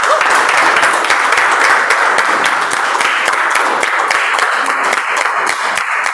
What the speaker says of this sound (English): Can we have a better round of applause for the speaker?